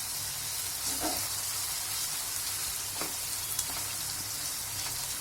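Onion and tomato paste cook in a pan for Agri-style prawn masala, giving a steady, close frying sizzle with a few soft stirring clicks throughout and no voices.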